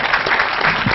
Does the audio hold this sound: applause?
yes